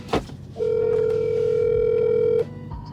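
A phone call rings out once with a single steady, loud tone lasting about two seconds, bracketed by brief clicks and handling noise.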